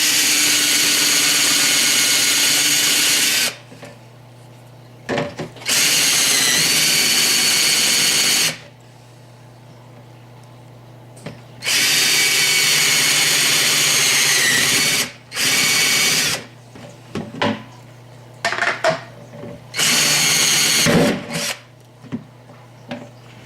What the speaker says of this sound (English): Now I'm going to drill 2 holes all the way through.